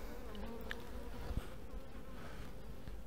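Honey bees buzz around a beehive, a dense, steady hum that fills the whole stretch at low level with no pauses.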